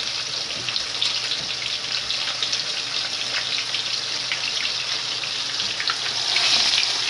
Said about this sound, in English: Chicken, flour, make sure it's flour nice, into the frying pan.